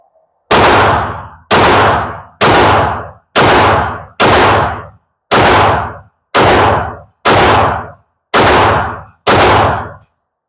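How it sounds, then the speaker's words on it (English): Ten loud Canik Rival pistol shots fired at 25 feet, evenly spaced about one per second, each a sharp close crack with a short decaying tail and no talking. "we're going with the Canik rival first. 10 rounds."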